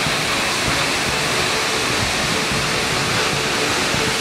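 Multnomah Falls roars in a steady, loud, unbroken wash of falling water that fills the whole stretch from start to finish, with no voices over it.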